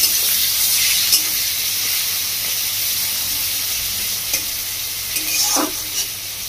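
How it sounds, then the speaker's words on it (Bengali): Two medium chopped onions frying in a pan for a rohu fish head and mung dal dish, a steady loud sizzle with occasional scrapes of a spatula stirring, close by and without talk. "পেঁয়াজটাকে ভালো করে ভেজে নেব বন্ধুরা"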